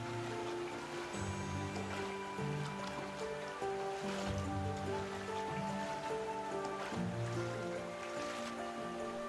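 Water rushes steadily through river rapids where an otter hunts for fish and crustaceans, a constant close splashing wash layered with a few tonal notes.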